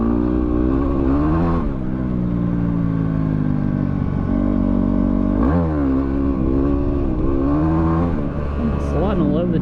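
Yamaha WR250R dual-sport motorcycle loaded with bags on a desert track, engine revving hard and rising in pitch in repeated surges for a wheelie, loud and close throughout, with a gear change partway and wind noise.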